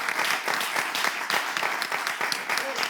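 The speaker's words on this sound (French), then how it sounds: "Je vais vous demander d'applaudir encore une fois." A television studio audience claps in a thick, steady burst of applause lasting a few seconds, close and fairly loud, with a few scattered louder claps.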